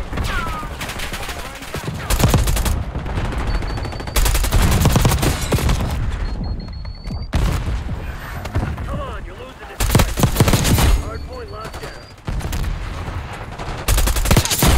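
Loud bursts of automatic gunfire from Black Ops 6 multiplayer on the Babylon map come in repeated volleys, with explosions and a player talking between them.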